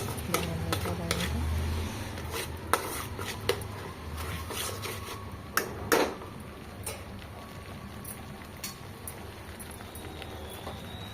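Ginger garlic paste cooking in oil for a cauliflower curry: soft steady sizzle with repeated scraping stirs and a few sharp clinks of a spoon against the pan.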